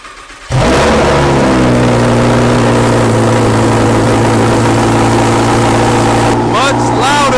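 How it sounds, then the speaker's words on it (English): A Lamborghini Huracan's engine and exhaust roar loudly and close, starting suddenly and holding a sustained, raspy high-rpm howl that continues almost to the end. "The Huracan."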